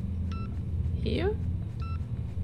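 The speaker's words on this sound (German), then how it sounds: "hier piepst was." An electronic device in the video game Infra beeps in short high repeated pips, with a sweeping tone in between and a low rumble underneath. Someone talks over it.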